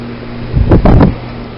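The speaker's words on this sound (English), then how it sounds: "this is my Goodman central air conditioner running" A Goodman central air conditioner from 2008 runs on a winter night, holding a constant low humming drone at close range. A couple of short, breathy whooshes swell over it halfway through.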